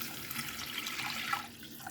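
Chicken broth pours from a can into a cooking pot, a short, soft liquid splash and gurgle heard alone at close range.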